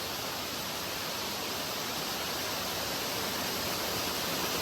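Kings Falls, a waterfall on the Foothills Trail, produces a steady, broadband rush of falling water that holds constant and even, with no talk over it.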